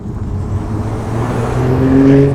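A Toyota GR Supra's straight-six engine with a six-speed manual revs toward redline in second gear, with a rising, droning tone building in loudness over a couple of seconds, heard from inside the car.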